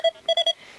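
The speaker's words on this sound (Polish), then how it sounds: "Jest kolejny sygnał." A metal detector sweeping a sandy Baltic beach at Stegna gives a short run of clear electronic beeps, one tone followed by three quick pulses, close and moderately loud.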